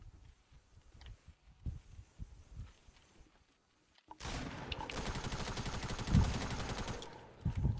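Fortnite gunfire erupts after a few seconds of quieter game sounds, a dense, loud burst of rapid shots lasting several seconds with a few heavier blasts near the end.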